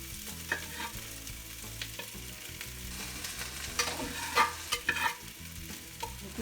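Softened vegetables for fried rice sizzle gently in a pan while being stirred, with a few louder scraping strokes near the end over a low, steady hum.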